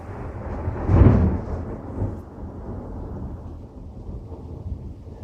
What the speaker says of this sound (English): It just started hailing outside, and that was thunder.